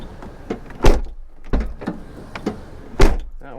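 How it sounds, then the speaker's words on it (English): The door of a Lexus GX470 SUV is worked and shut, giving several solid thumps and latch clunks in a quick irregular series, close and fairly loud, with no talk. "All right, the door's fully closed."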